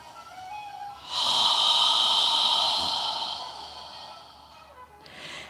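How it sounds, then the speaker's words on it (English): A long, breathy exhale through an open mouth during yoga breathing, close and soft like fogging a mirror, lasting about two seconds and ending in a brief quieter breath. "exhale with your mouth open"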